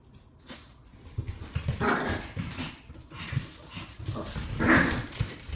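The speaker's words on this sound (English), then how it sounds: "So none of those big barks." A dog barks and growls in scattered bursts at close range, with some whimpering between the louder barks in a quiet indoor room.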